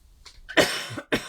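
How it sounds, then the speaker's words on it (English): A person coughs close to the microphone: a couple of short, rough coughs with a brief pause between them. "I'm going to cough a bit."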